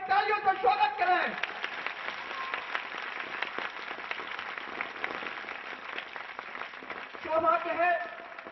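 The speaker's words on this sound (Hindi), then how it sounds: "जोरदार परम पूज्य गुरु जी के तालियों से स्वागत करें।" Crowd applause welcoming a revered child saint at a village devotional gathering, a steady wash of clapping lasting several seconds with a voice speaking over it at the start and near the end.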